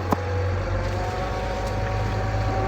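A 1997 Case Magnum 7250 Pro tractor with an 8.3-litre 275 hp Cummins engine idles and creeps in reverse, a steady low hum with a faint whine and a small click near the start.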